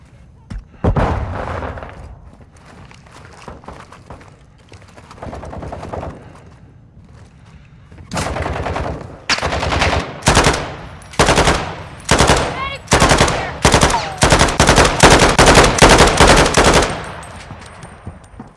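Automatic gunfire in the Call of Duty DMZ video game, aimed at the player, rattles in sparse bursts at first, then builds into dense, loud, repeated volleys of rapid shots in the second half.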